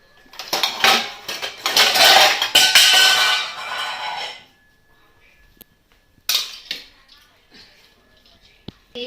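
Kitchen pots and utensils being taken out, clattering and clanking loudly for several seconds, then a pause and a few more scattered clinks and knocks close by.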